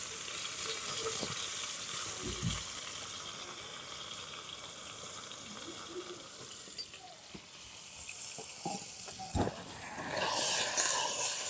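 Vegetables sizzle steadily in hot oil in a pan, a continuous bright frying hiss with occasional stirring clatters and pops, with no talking.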